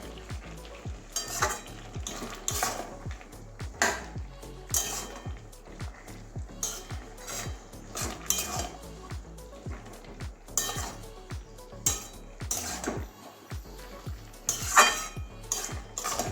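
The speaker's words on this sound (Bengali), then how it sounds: "এবারে ভালো করে মিশিয়ে দেবো গরম মশলার সঙ্গে" A spoon stirs vegetable curry with garam masala in a sizzling pan, scraping and clinking in a steady rhythm close by, with soft frying hiss beneath.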